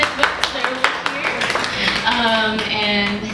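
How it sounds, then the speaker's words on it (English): A seated audience at a comics convention talk gives a short round of sharp, scattered hand claps, close and fairly loud, that then thins out as a voice starts talking over the last claps. "Let's give a round of applause to Summit Books."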